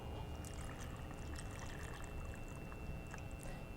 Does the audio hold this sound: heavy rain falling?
no